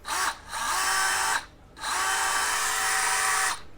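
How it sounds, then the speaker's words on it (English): A DeWalt cordless brushless hammer drill whirs steadily in two bursts, a short run then a longer one after a brief pause, close and fairly loud. "This is the hammer drill."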